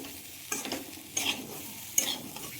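Vegetables with coriander and cumin powder sizzle steadily in a hot pan while a utensil scrapes and stirs them in three distinct strokes.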